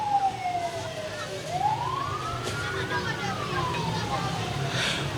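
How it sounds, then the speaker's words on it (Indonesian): An ambulance siren wails past at moderate distance, its rising and falling tone bending as it moves by, over steady traffic rumble and faint street noise. "Bukan itu, ya itu ambulan."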